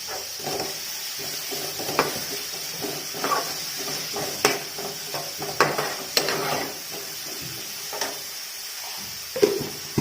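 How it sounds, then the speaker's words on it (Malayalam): Onions with salt sautéing in a pan for Kerala chicken stew, a steady soft sizzle with repeated scraping stirs and light utensil clicks against the pan, close and without talk. "ഒന്ന് കളർ മാറി ചെറിയൊരു ഗോൾഡൻ കളറാകണം, അതുവരെ വഴറ്റിയെടുക്കാം."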